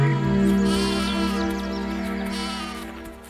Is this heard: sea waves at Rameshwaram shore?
no